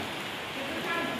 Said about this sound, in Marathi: मंदिराच्या इथं आलेलो आणि पाऊस चालू झालाय.